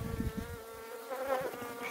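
A steady, droning buzz of honeybees at a hive in September hums continuously, close and fairly quiet, with no voices.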